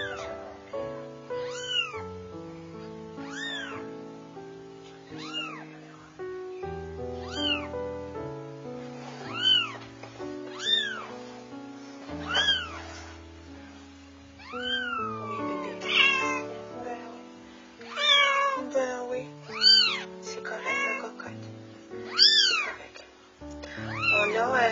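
A newborn Bengal kitten meows over and over in rising, arching cries, loud and close, with steady background noise beneath and no talking.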